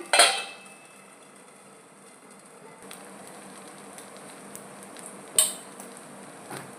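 A lid set onto a pan of onion dosa cooking on the stove, a sharp metallic clink at the start and another near the end, with a faint steady kitchen hum between them.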